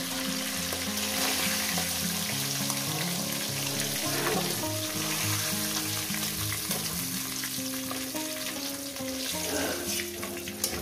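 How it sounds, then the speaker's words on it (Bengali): Katla fish heads fry in hot oil, a loud continuous crackling sizzle with bursts of spattering, close up and steady with a tonal hum in the background. "মাছের মাথাগুলোকে ভেজে নেব।"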